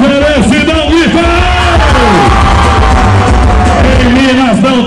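A rodeo crowd at an opening ceremony yells and cheers back at the announcer, loud and roaring, while an amplified voice calls out over the noise.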